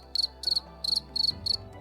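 Crickets chirp in five evenly spaced bursts, each a quick trill of three or four pulses, steady and moderately close, with no voices.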